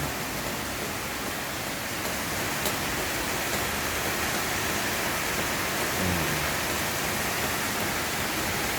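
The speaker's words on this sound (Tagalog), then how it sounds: "Basang-basa sa ulan." Steady rain pours down on bamboo and garden plants, a dense, constant hiss that fills the space evenly with no pauses, close and moderately loud throughout.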